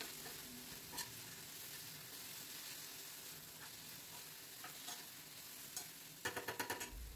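Ginger and chopped coriander frying in a pan while being stirred, a soft steady sizzle with a few faint scrapes, then a quick run of louder stirring clacks at the end, no talk.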